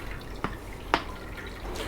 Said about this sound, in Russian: Очень медленно проходит фильтрация.